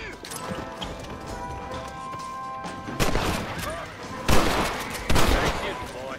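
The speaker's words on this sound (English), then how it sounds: "Nice shooting, boy." Red Dead Redemption shootout: a few loud gunshots crack out toward the end, preceded by galloping-like rhythmic thuds and a busy game ambience, with a voice speaking.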